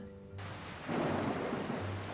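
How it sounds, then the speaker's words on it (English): Rain pours steadily and rolls of thunder rumble underneath, a stormy downpour that swells louder partway through and holds at a dense, continuous hiss with low booming swells. "it began to rain"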